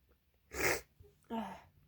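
A loud, intense sneeze bursts out in two close blasts, a sharp explosive release followed by a shorter second burst, heard near and alone in an otherwise quiet room.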